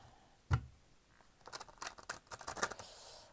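Dixit cards being shuffled by hand: a sharp tap, then a quick run of crisp riffling flicks and card slaps, close and fairly quiet, with no talk.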